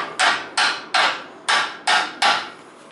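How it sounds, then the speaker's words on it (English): Six sharp metallic hammer strikes on a car muffler pipe in a steady rhythm, each ringing briefly before the next blow, close and loud with no talking. "I hammer that little bit"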